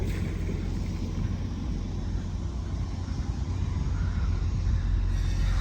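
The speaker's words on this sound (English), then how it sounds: "Engines are running." Boat engines idle at the dock before heading out on Barkley Sound off Vancouver Island, a steady low rumble with some wind noise on the microphone, continuous and even throughout, no talking.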